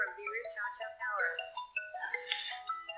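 A mobile phone rings with an incoming call, playing a melodic ringtone of bright stepping and sliding tones in quick repeated phrases, close by and heard alone.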